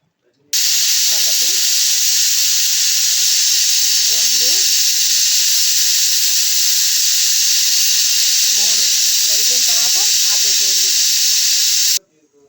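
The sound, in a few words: pressure cooker whistling and releasing steam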